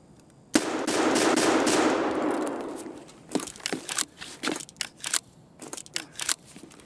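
An explosion in the video game Escape from Tarkov: a sharp blast followed by a long rushing roar that fades over a couple of seconds, then scattered crackling, clattering debris-like impacts.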